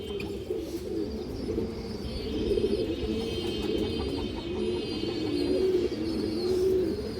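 Cream-eyed high flyer pigeons coo softly and repeatedly close by, with a low, steady burbling that keeps going over faint background noise and no talk.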